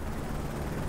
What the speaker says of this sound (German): Feindlicher Helikopter in Anflug.